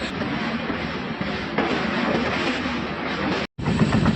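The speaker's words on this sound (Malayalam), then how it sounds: "നമ്മളങ്ങനെ ആലുവ പാലം ക്രോസ് ചെയ്തുകൊണ്ടിരിക്കുകയാണ് കേട്ടോ" Antyodaya Express crossing the Aluva bridge at night, heard from on board as a loud, continuous rumbling roar of wheels and carriage noise, briefly cutting out near the end before resuming.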